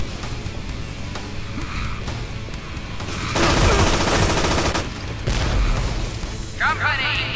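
Rapid automatic gunfire from a first-person shooter game rattles in dense bursts, growing louder midway, with game voices calling out over the shooting.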